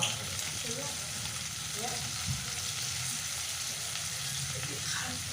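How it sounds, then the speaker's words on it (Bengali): Chopped bottle gourd frying with crisp-fried prawns in a pan gives a steady, fairly quiet sizzle that runs throughout, with faint stirring. "এবার আমি এর মধ্যে কেটে রাখা লাউগুলো দিয়ে দেব।"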